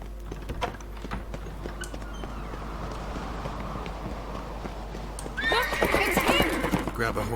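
A horse in The Witcher 3 with steady hooves clip-clopping under the talk, then a loud, close whinny near the end as the hoofbeats continue.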